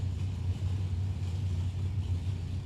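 A 454-engined drag racing car runs down the lane at Beech Bend Raceway Park, a steady deep engine drone heard from a distance, even in level with no clear revving peaks.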